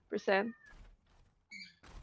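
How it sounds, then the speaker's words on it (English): A pet cat meowing close by during an Overwatch game session, two short meows with a soft noise in between. "my cat is annoying"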